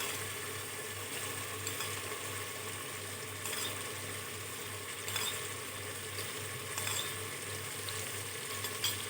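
Chicken frying in a pan after beaten yogurt is added, giving a steady close sizzle and crackle with faint stirring scrapes, running continuously with no talk.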